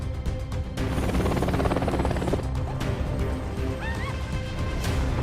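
A military helicopter arrives in the Chinese action film Wolf Warrior 2, its loud, dense rotor roar filling the scene with a thin rising whine and scattered impacts layered over it.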